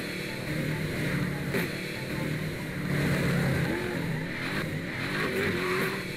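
Car engine in Garry's Mod droning and revving steadily throughout, a continuous mid-loud motor hum with slight rises in pitch and no speech over it.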